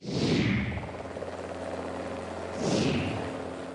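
A helicopter flies over Britain, a loud broadband rotor and engine roar that swells twice as it sweeps past, steady and close with no voices.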